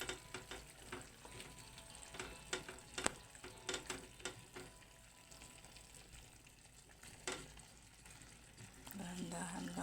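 Chicken liver and gizzard adobo being stirred in a pan, with soft scraping and clinking strokes over a light sizzle and a spoon tap, close and fairly faint.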